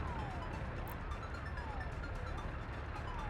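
Sirens from the Workers & Resources city-building game, faint wavering siren tones sweeping repeatedly through a dense, steady bed of traffic-like ambient noise.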